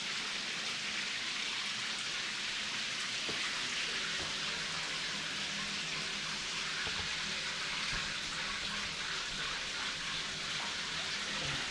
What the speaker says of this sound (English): I'm stalling a little bit to see how quickly the shower pan is going to fill up.